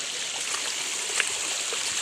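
A river stream flows steadily on the way to a waterfall, a continuous close rushing and gurgling wash of water that holds an even level throughout with no voices.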